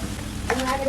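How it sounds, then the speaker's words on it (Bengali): Potatoes being stirred with spices in a hot pan for a chop filling: a close, continuous frying sizzle with scraping stirs and light clicks of the spoon, no voices. "আলুটাকে কিছুক্ষণ নাড়তে হবে মশলাটা ভাজ করার জন্য"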